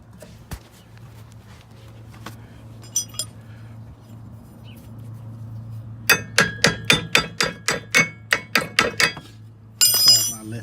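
Rear brake pads are pried out of the caliper on a 2012 Hyundai Sonata, a rapid series of sharp metallic clinks and taps, close and fairly loud, after a quieter stretch of low background hum.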